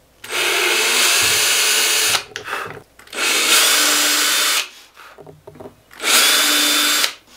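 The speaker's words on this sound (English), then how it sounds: "and start drilling holes for these." A power drill bores holes into a wooden board in three bursts of steady high whine, each about two seconds long and separated by brief pauses, loud and close with no talk.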